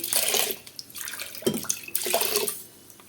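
Glassfuls of water are poured into a cooking pot for pongali, with several close, gushing splashes in quick succession and short pauses between them.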